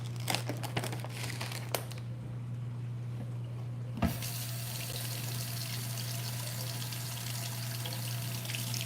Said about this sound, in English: Just washing mushrooms.